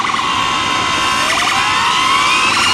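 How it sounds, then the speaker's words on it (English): Ambulance sirens wail on a busy main street, their rising and falling tones loud and continuous over a dense wash of traffic noise. "Main Street, sirens. If you can hear them, sirens. Ambulances,"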